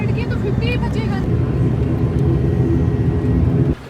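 Loud, steady low cabin roar of a passenger airliner just after landing in Goa on a flight from Lakshadweep, with a voice briefly heard at the start before the rumble drops away near the end.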